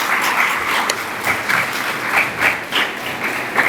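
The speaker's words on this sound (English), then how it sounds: "can we have another round of applause," A crowd claps steadily in sustained applause at a high school graduation and awards ceremony, loud and close, with a few brighter individual claps standing out.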